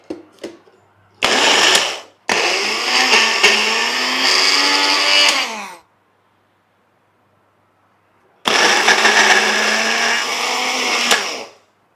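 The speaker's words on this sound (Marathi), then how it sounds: "एका वेळेस जेवढे सोयाबीन बसतील तेवढे टाकून घेऊयात आणि ब्लेंडरला फिरवून घेऊयात" Electric blender with a two-blade jar grinding soaked soybeans, two loud whirring bursts of a few seconds each, separated by a pause and preceded by a short startup pulse, heard alone and close.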